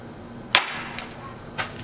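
Gunfire at an outdoor shooting range: one sharp, loud report followed by two fainter, quicker cracks, each with a short ringing decay.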